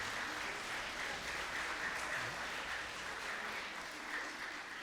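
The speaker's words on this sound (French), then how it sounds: "Je crois qu'elle mérite quelques applaudissements" Steady applause from a small audience, clapping continuously at an even level with no talking.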